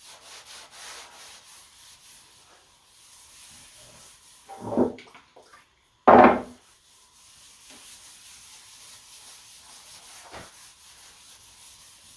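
Wipe-on polyurethane rubbed by hand along the grain of a live edge wood table top, a soft steady cloth-on-wood swishing with a couple of louder strokes standing out near the middle.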